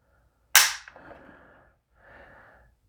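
PSAK-47 rifle trigger pulled against a Wheeler trigger scale, a single sharp snapping click of the hammer falling, followed by softer mechanical rustling and handling noise, close and isolated.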